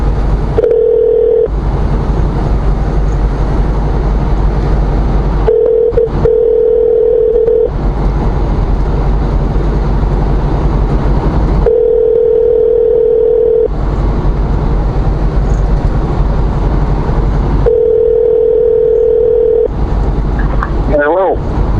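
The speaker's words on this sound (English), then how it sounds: "while this thing is trying to dial out" A telephone dials out while a ringback tone repeats in regular bursts with pauses between, loud and close over a constant low hum, ending with a few brief dial beeps.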